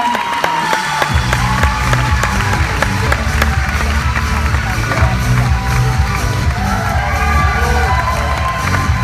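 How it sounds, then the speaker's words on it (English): An audience at a Les Brown seminar applauds and cheers for James McNeil, a Canadian director. Steady, loud crowd noise continues throughout, with voices shouting over it. "Give James McNeil a round of applause."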